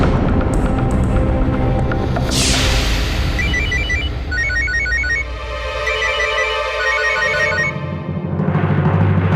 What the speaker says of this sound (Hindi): चौधरी साहब, घर से फोन है।